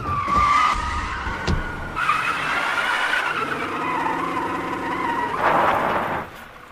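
A car skids and jolts on a highway with tires screeching in short bursts and an engine rumbling beneath, all loud and close, staged as a film sound effect.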